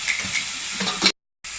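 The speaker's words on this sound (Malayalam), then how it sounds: "ഇനി നമുക്ക് ഇതിലേക്ക് വേവിച്ച് വെച്ചിരിക്കുന്ന ചിക്കൻ്റെ പീസസ് ഇട്ട് കൊടുക്കാം" Cooked chicken pieces dropped into a pan of sizzling spicy pasta and vegetables, giving a steady close hiss with a brief stir before a short cut to silence, no voices.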